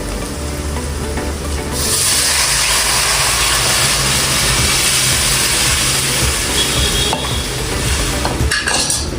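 Fish masala for sorrel fish pulusu stirred in a pan over the stove, a loud continuous frying hiss with occasional spoon knocks against the pan.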